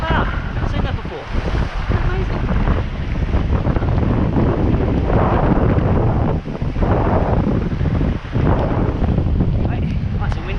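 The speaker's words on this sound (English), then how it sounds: "Right, nice and windy here." Strong wind at sea buffets the microphone in heavy, continuous gusts, with waves and water rushing beneath and a voice speaking now and then.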